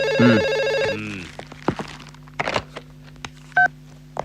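Telephone keypad tones sound in a quick burst of beeps, followed by scattered clicks and thumps of handling the handset, then a short double-tone beep near the end, all fairly close and with no speech.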